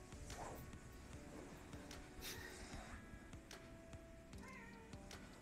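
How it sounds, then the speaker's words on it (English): Cats meowing and crying in short, repeated plaintive calls, moderately close, over a steady background of ambient noise with occasional faint knocks. "These poor cats. I hate hearing them, like, crying."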